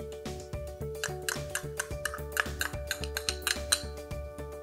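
Jowar tikki mixture being mixed with besan in a bowl, a quick rhythmic run of spoon clinks and scrapes against the bowl, close up and without talk.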